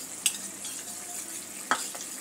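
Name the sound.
gravy bubbling and sizzling in a pan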